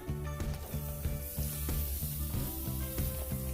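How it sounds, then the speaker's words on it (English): Steady, loud sizzling of steak over a hot charcoal Weber grill fills the clip, with a low rhythmic thumping beneath it throughout. "Listen to that sizzle."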